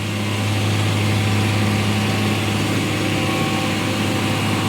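A JCB's engine runs as it pulls out a stuck 18-wheel trailer dumper. The loud, steady diesel drone is close and continuous, with no talking.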